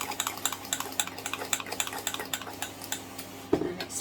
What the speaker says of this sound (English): All we need to do now is give it a stir.